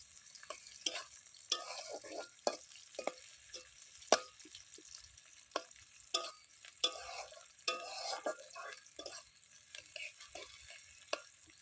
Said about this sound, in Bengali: রসুনটা লাল হয়ে এসেছে দিয়ে দেব পেঁয়াজ কুচি